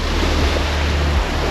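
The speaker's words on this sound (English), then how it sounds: "water hitting my feet" Shallow water waves washing over bare feet at the shoreline, a steady loud broadband surf wash with low rumble and wind buffeting the microphone, no voices.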